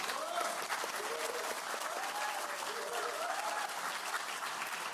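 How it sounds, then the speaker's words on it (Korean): A room full of people at a Korean political party workshop claps steadily in dense, even applause that runs the whole stretch, heard from some distance, with a few voices faintly mixed in. "큰 박수로 환영해 주시기 바랍니다"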